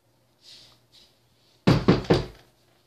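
Three sharp, loud knocks on a door in quick succession, preceded by a couple of faint soft bumps, with no talking.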